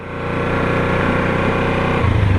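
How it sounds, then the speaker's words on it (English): A Kawasaki Ninja 300 motorcycle engine idles then revs up for a hill start, its throaty pulsing rising in pitch and loudness near the end, close and loud. "key to a hill start is revving the bike"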